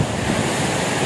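Roaring typhoon wind and crashing waves during Typhoon Uwan, a constant loud broadband rush with no break.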